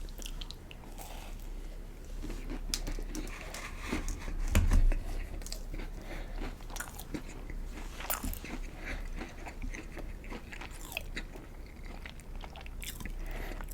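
Someone bites into and chews a buttery brown sugar Crumble cookie up close, with soft crunches and moist chewing in an uneven rhythm and one louder bite near the middle. It is quiet and intimate, with no talking.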